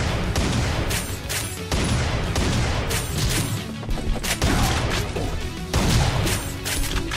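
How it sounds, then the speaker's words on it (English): Cannon shots in the video game Captain Wayne: Vacation Desperation, a rapid series of loud blasts and crashing impacts layered over dense game sound effects and music. "Let me get the cannon out."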